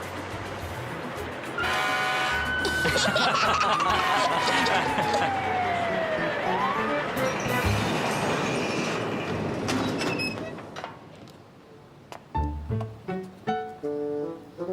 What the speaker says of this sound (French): Il déclenche la sirène qui est sur le toit du camion.